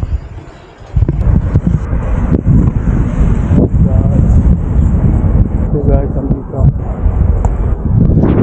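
Wind gusts across a city street in Cologne, buffeting the microphone with a loud, rumbling roar that starts abruptly and persists, while someone speaks over it.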